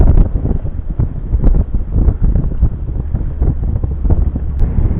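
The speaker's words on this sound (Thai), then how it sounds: "เสียงลมแรงหน่อยนะครับ" Strong wind at sea aboard a small fishing boat hauling fish traps: steady, loud buffeting rush across the microphone with low gusty rumble and faint water slap, continuous and close, no talk.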